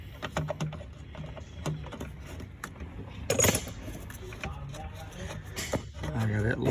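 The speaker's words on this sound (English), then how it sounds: "I'm gonna take the bolt out of the overflow." Close metallic clicks and clinks of a wrench loosening a bolt on the radiator overflow of a 2003-2008 Honda Element, coming in scattered bursts with small knocks and rattles, some of them louder.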